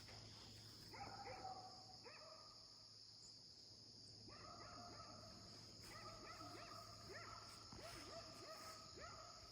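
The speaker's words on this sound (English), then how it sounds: "Sorry about the barking dogs." Distant dogs bark in repeated clusters of a few yelps each near a garden with cows nearby, faint against steady insect and cricket buzz.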